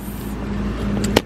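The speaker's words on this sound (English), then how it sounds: "So here's Allie's bus" A bus rumbles close by as it pulls up, with a steady low engine hum, faint rattles and a brief sharp click near the end.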